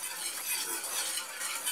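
Flan mixture of sugar and vanilla flan powder stirred in a saucepan, a faint, steady scraping and swishing that runs continuously with no voices.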